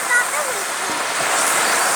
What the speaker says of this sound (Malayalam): കണ്ടോ ഇവിടെയൊക്കെ നല്ല വെള്ളം ചാടുണ്ട് കേട്ടോ